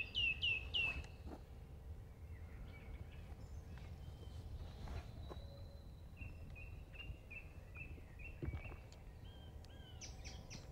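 Several wild birds call and chirp, with a burst of sharp twittering at the start and scattered tweets and whistles later, fairly close against a quiet outdoor background.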